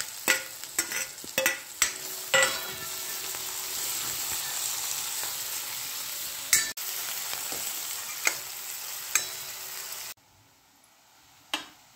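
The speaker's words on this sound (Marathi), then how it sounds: "कांदा परतत आलेला आहे। आता आपण शिमला घालून घेऊया।" Onion and capsicum sauté for pav bhaji in a hot pan, a steady close sizzle broken by spatula clicks and stirring knocks before fading quiet at the end.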